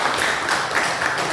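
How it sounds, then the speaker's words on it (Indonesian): Classroom applause from a group of students clapping their hands in a steady, dense patter that fills a short burst, close and fairly loud, with no talking over it. "Kita kasih aplaus, tepuk tangan."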